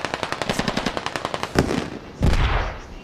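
Rapid automatic gunfire in the military shooter game Squad: a fast, evenly spaced burst of loud shots lasting about a second and a half, then a couple of heavier blasts, with no talking.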